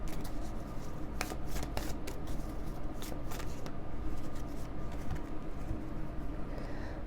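Tarot cards are shuffled by hand in a quiet room, a run of soft papery riffles and slaps in quick bursts, with faint birds cooing in the background.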